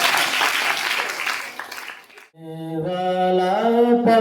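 An audience at a Chandigarh senior citizens' association monthly get-together claps loudly and densely for about two seconds, then the applause stops and a sustained singing voice takes over.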